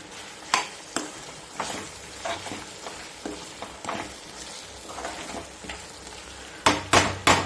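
Chicken curry with freshly added coriander being stirred in a pan, spoon scraping and knocking the pot in irregular strokes over a soft steady sizzle, with a louder cluster of clanks near the end.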